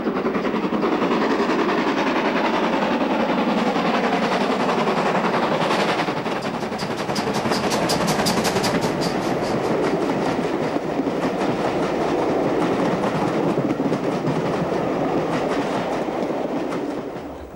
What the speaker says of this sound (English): accelerates a southbound train over the newly installed double-track section